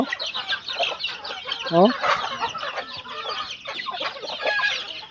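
Chickens cluck and chirp steadily on a farm, with hens and a possible rooster call mixed with chick peeps, moderately close and continuous throughout, a brief louder squawk midway.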